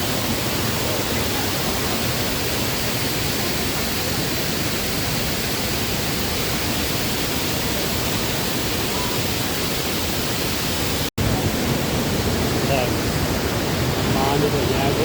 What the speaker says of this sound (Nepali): यहाँ पनि झरना पुरै बगिरहेछ, यहाँ पनि बगिरहेछ